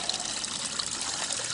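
Water pours steadily down a koi pond waterfall fed by a 1,200 gallon-a-minute pump, a continuous close splashing rush with no pauses.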